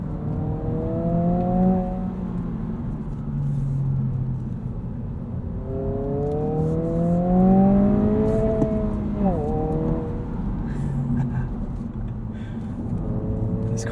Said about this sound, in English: The active sound control is still a little bit artificial sounding between gear shifts.